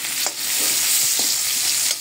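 Onions sizzle steadily in a hot pan for pork adobo, with a few soft clinks and scrapes of stirring over the continuous frying hiss.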